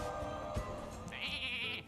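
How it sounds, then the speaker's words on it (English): A faint sheep bleat from the Hearthstone video game, a short nasal cry rising near the end over a low, steady game backdrop. "this one's going to be a herd of sheep"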